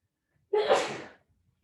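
One sharp, close sneeze bursts out during a quiet tai chi exercise session, followed by silence.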